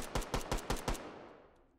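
Five rapid gunshots fire in a quick, evenly spaced burst, close and loud, followed by a fading echo tail, in the VR shooter Hot Dogs, Horseshoes & Hand Grenades.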